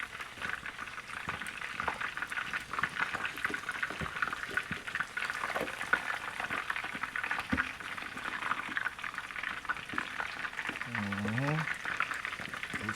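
Chicken wings for crispy Chinese takeout-style wings deep fry in hot oil with a dense, steady crackling and bubbling sizzle throughout, and a voice speaks briefly near the end.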